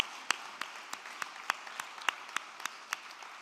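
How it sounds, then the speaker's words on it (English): Sparse applause from an event audience honoring Carly: a dozen or so separate, fairly even claps spread across a few seconds, thin and moderately quiet, like a small group or a few hands clapping in a large room. "let's give Carly another round of applause."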